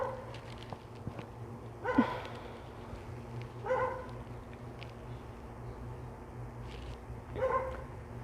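Dogs barking somewhere outside a home, three short distant bursts of barking spaced a few seconds apart over a low steady background hum.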